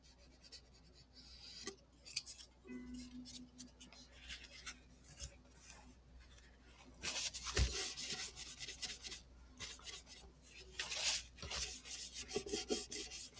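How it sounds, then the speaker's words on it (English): Soft, steady rubbing and rasping strokes of light wet sanding on a wooden ukulele body, close and quiet, repeating in uneven bursts with no talking. "I'm wet sanding this lightly."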